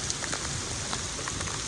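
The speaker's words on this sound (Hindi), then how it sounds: "इतनी तेज़ बारिश हो रही है ना," Heavy rain that has been pouring for two hours over flooded fields, a dense, steady hiss of drops striking surfaces with scattered sharper patters, continuous and fairly soft, no talk.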